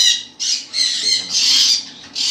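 Exotic pet birds at a bird farm let out loud, harsh squawks in four or five bursts, close by with no talking.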